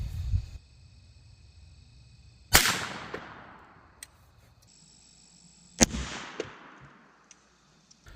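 Two sharp, loud 7.62x39 rifle shots fired at a pumpkin outdoors, each a sudden crack with a long decaying echo, a few seconds apart, over a faint steady background hum and no talk.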